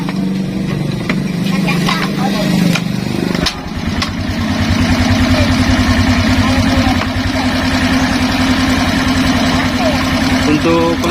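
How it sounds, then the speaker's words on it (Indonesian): Suzuki Skydrive scooter engine being started, with a person talking over a first stretch of engine noise before a sharp catch, then a steady, close, rapidly pulsing idle that continues to the end. "Terus motornya kita hidupkan."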